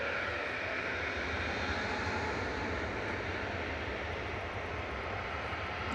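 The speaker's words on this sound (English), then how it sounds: "So that was EasyJet off to Mykonos. GZTC A320-200." An EasyJet Airbus A320-200 bound for Mykonos departs Manchester Airport, heard as a faint, steady, distant jet engine rumble with a constant hiss throughout and no voices.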